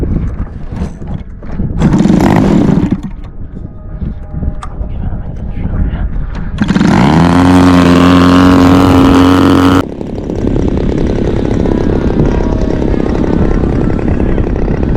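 A Starfire model airplane engine starts and runs, first in rough bursts with talk around it, then revving up to a loud, steady high whine before dropping to a lower, sustained engine drone.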